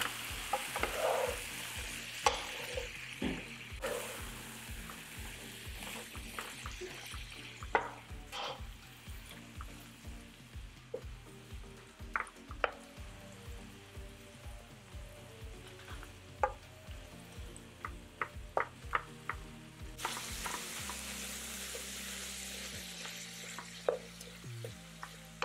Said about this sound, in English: that, believe it or not, is all we want to cook the bacon, just enough to get it started